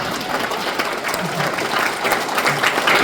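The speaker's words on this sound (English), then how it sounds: "Give a round of applause." A political rally crowd in Ajax gives a loud, sustained round of applause for the Durham team, many hands clapping close and continuous, with some cheering mixed into the steady roar.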